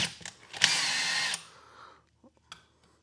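A DeWalt 66719 screwdriver drives a screw with a loud, whirring motor burst lasting about a second, then winds down and stops, followed by a few faint clicks and a short mechanical rattle.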